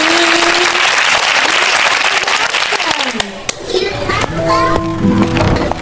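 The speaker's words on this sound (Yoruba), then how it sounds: "Ẹ pàtẹ́wọ́ fúnra yín." A group of children clap and cheer in applause, a dense, sustained patter of many hands with bright high voices mixed in, loud and close throughout, with a few scattered shouts toward the end.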